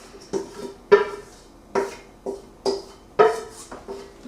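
Corn and onion being stirred together for a creamed-corn dish, about eight distinct clanks and scrapes of a spoon against a pan, evenly spaced and close, with no talking.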